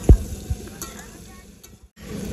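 Two bay leaves dropped into hot oil in a pan with fried pumpkin sizzle softly with a brief crackle at the start, then settle into a low, steady frying hiss.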